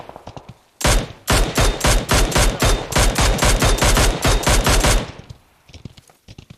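Rapid bursts of automatic gunfire from PUBG Mobile, a loud close run of evenly spaced sharp shots lasting about four seconds, then fainter distant pops trailing off.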